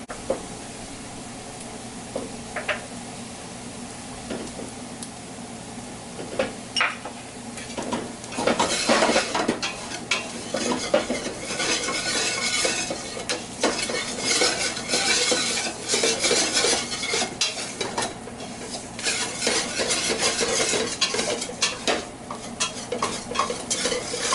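Paprika and shrimp shell powder being stirred into browned flour for shrimp bisque, a steady scraping stir in a pan with a faint sizzle underneath, getting busier and louder about a third of the way through, with occasional utensil clinks and no talk.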